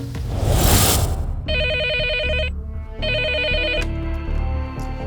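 A telephone rings in two clear bursts of electronic trilling, loud and close, following a noisy rustle at the start, with no one speaking during the rings.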